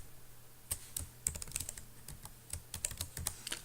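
Quick, uneven keystrokes on a computer keyboard as PHP code is typed, soft and close, with short pauses between bursts.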